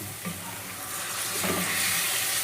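Onions and tomatoes sautéing in a pan for pork sinigang, a steady close sizzle with light stirring throughout, no talk.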